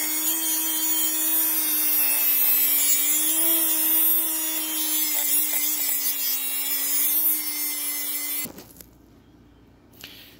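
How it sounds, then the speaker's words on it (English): A steady, loud grinding cut bites into a seized steel bearing race fixed on a steel sleeve, holding a constant pitch for about eight seconds before it abruptly stops and fades into quieter handling noise. "So let's keep cutting."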